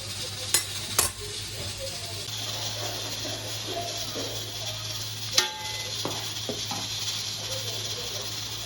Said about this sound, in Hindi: ये हमारे राइस हो रहे हैं, उबल रहे हैं।